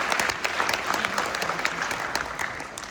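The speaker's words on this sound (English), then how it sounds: "applause" Audience applause at a nitrate film screening: many hands clapping in a dense, sustained wash with scattered sharper claps near the front, no talk over it.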